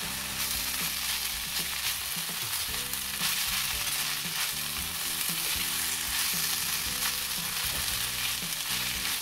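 Thinly sliced curry leaves fry in a pan for chicken ada, giving a steady, dense sizzle with occasional stirring scrapes close by.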